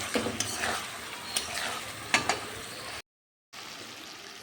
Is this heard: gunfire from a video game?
no